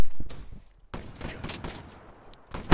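Gunfire in Black Ops 3 multiplayer crackles in a few sharp, close bursts separated by brief gaps, with a loud final blast at the end.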